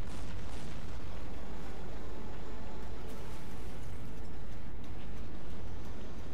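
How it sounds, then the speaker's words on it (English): Explosions and fire in the video game Crysis 3, a constant loud roar of blasts and burning with rumbling booms that fill the whole stretch. "everything seems to be exploding or on fire"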